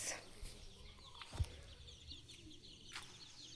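Hens grazing on grass in a field cluck softly and intermittently outdoors, with a couple of sharper calls standing out against a quiet background.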